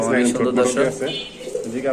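Pigeons at a pigeon farm, low soft cooing close by, heard under someone talking throughout.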